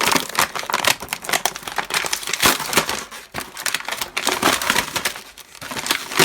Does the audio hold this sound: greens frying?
no